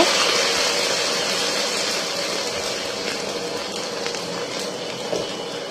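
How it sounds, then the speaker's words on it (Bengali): Garlic and ginger paste stir-frying in hot oil for mango pickle gives a steady, dense sizzle and crackle that holds evenly throughout, with faint scraping underneath. "একটু নেড়ে নেড়ে কষিয়ে নিব"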